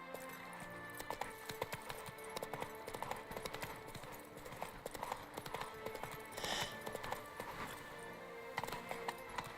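Roach, a horse in The Witcher 3 roaming the land of Toussaint, gallops with a steady, rapid clip-clop of hooves throughout, fairly close and continuous over a busy game ambience.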